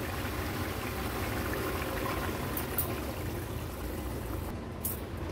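Kantola amti, a tangy curry, bubbling in a pot on a gas stove, a steady soft simmering hiss and gentle bubbling heard up close with no talking.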